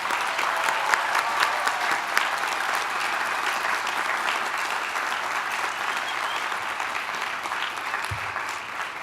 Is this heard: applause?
yes